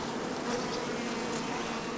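Honey bees buzzing at production hives holding capped honey, colonies moved in on pallets to an outyard; a steady, dense, even drone of many bees fills the air close by, with no talk.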